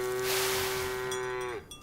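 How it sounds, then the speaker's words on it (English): A Holstein cow in the farming video game Farm Together gives one sustained, even moo lasting over a second before it cuts off, close and clear with no speech. "Holstein cow, if that's how you say it."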